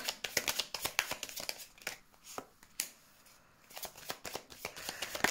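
Tarot cards shuffled, handled and drawn during a reading: a run of crisp, close papery flicks and slaps in quick irregular bursts, with a brief quieter pause midway.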